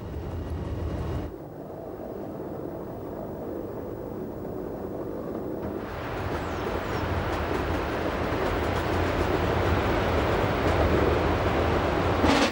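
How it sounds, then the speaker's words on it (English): Glacier Express train on a Swiss rack railway on the Furka-Oberalp line crossing a high viaduct over the River Rhone, a continuous rumbling run of wheels and carriage noise that drops briefly, then swells louder and fuller toward the end. "The train crosses the River Rhone over a 48-metre high viaduct, the loftiest on the Furka-Oberalp network."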